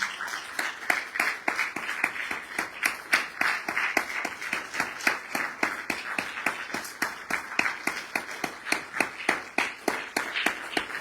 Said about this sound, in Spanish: Aplausos para el maestro.